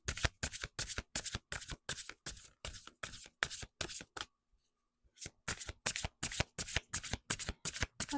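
Oracle of the 7 Energies cards being riffle-shuffled by hand, a fast run of crisp papery bursts, a short pause, then another steady series of riffles, close and clear with no talking.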